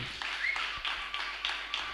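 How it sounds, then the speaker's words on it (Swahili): A congregation clapping during a church service, a brief run of steady rhythmic hand claps, moderately distant and fairly soft. "Tupigieni Mungu makofi mazuri."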